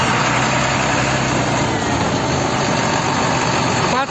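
A farmer's tractor engine towing a Russian tank runs with a steady, close, loud mechanical rumble and idle-like chug. It holds constant for several seconds without speech.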